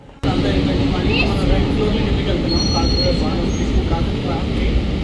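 A tram in Germany rumbling along its rails, steady and close, with faint squeals and chatter of passengers underneath.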